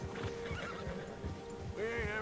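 A horse whinnies in Red Dead Redemption 2, a rising, wavering neigh near the end that follows soft hoof clip-clops and a faint low voice.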